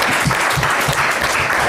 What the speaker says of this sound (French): Alors, on va applaudir nos joueurs qui ont bien fait ça.